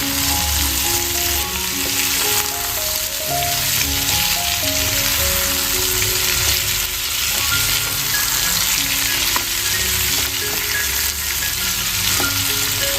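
Beet and carrot pieces with chopped tomato sizzle steadily in a wok (kadai), a dense, continuous frying hiss with stirring scrapes, while a soft tonal background runs underneath.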